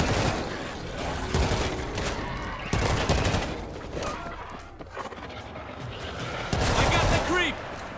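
Dense gunfire bursts and rapid automatic fire from the World War Z zombie shooter game, fighting in Moscow, loud and continuous with voices mixed in.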